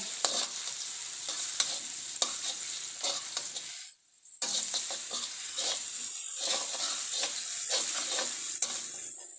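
Garlic and pounded chili are stir-fried in a hot pan, giving a steady crackling sizzle with scraping stirs throughout, briefly dropping away near the middle before resuming.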